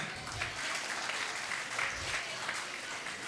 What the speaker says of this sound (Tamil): ஸோ இவங்க எல்லாருக்கும் ஒரு பெரிய கைத்தட்டு கொடுங்க.